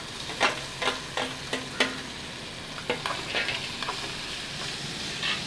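Raw banana pieces stir-frying in a pan for a vegetable poriyal, with a string of distinct scraping stirs over a steady low sizzle and no talking.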